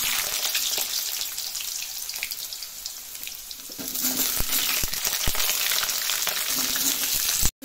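Vegetables dropped into a hot pan of oil for a lentil fritter and jackfruit curry give a steady loud sizzle, with sharper crackles and a few utensil clinks partway through and no talk.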